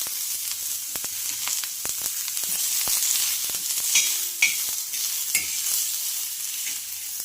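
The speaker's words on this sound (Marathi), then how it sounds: "तर यावर आपण सर्वप्रथम भाजून घेणार आहोत कांदा" Onion dry-roasting on a hot griddle for Kolhapuri misal, a steady soft sizzle and crackle with a few sharper pops and light scraping, close and alone without talk.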